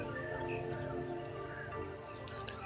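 Birds at a lakefront park in Kissimmee chirp and call, several overlapping tweets against a steady hum of background tones.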